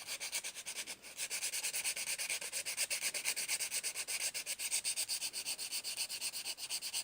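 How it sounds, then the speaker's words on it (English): Coarse 60 grit sandpaper rubs a wooden knife handle in steady, rhythmic back-and-forth strokes, a close, raspy scratching that continues alone without pause. "There you go, 60 grit sandpaper."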